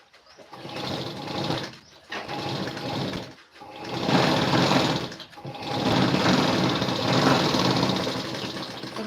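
A sewing machine stitching the front piece of a boat-neck blouse along a marked outline, running in loud, fast mechanical bursts with three brief pauses between runs, close up.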